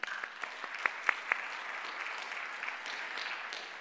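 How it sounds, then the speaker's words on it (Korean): A church congregation applauds during a Sunday sermon service, a brief burst of a few sharp claps first, then a soft, steady wash of distant clapping that continues in the background. "하나님께 영광이 되었다고 믿으시면 우리 박수 한번 부탁드립니다"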